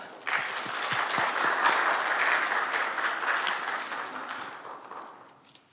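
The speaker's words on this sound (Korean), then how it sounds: "우리 큰 박수로 하나님께 영광 돌리며 우리 환영하도록 하겠습니다" A church congregation at a Korean Baptist Sunday service breaks into loud, sustained applause that swells quickly, holds steady with dense clapping, then fades out toward the end.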